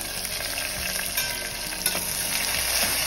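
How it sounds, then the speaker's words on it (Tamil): Asafoetida, onion, garlic and curry leaves fry in hot oil for a Tamil kara kulambu with sepa kilangu, giving a steady, close sizzle and crackle with a few sharper pops, no voices. "பாருங்க பெருங்காயம் நல்லா பொரிஞ்சிச்சு பாருங்க. இப்போ வெங்காயம், பூண்டு, கருவேப்பிலை எல்லாம் நல்லா சேர்ந்து நல்லா வதங்கிடுச்சு."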